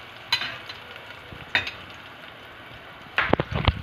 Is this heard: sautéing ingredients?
yes